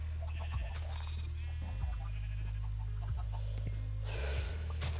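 Several game sheep bleat in a blocky Minecraft-style farm alongside chickens, repeated short bleats rising and falling over a steady low hum, fairly close, with a brighter burst near the end.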